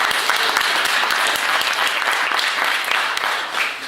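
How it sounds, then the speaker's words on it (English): Sustained, dense applause from a large audience at the opening keynote of GDG Los Angeles DevFest 2015, steady and loud throughout the four seconds with no speech over it. "Give yourselves a big round of applause."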